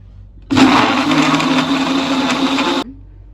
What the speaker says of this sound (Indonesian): Kemudian di blender.